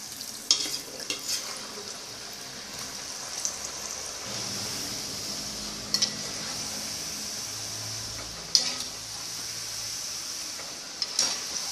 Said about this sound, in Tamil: இப்போ வந்து நம்ம எண்ணெய் காய்ஞ்சிட்டு நம்ம பொரிக்கலாம்